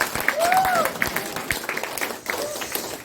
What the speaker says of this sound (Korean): 하나님께 영광의 박수를 보내드립니다